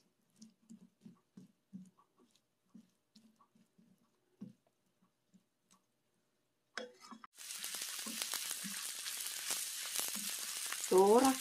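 Fish cake hitting hot cooking oil and being stir-fried, a sudden loud sizzle that starts midway after quiet tapping and handling noises, then a steady close crackling hiss with stirring scrapes.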